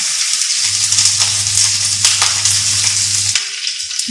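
A turkey breast fillet fries skin side down in a hot pan with a loud, close, steady sizzle and crackle, plus an underlying hum that cuts out near the end.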